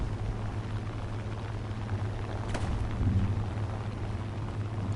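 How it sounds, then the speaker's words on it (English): Distant thunder rumbles outside as a low, continuous roll beneath steady background noise, with no clear sharp crack. "That's the thunder outside"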